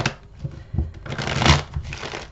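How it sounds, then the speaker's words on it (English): A deck of tarot cards being shuffled by hand close up, giving a steady run of papery riffles and soft slaps that builds to a denser flurry midway. "Let me just shuffle these real quick"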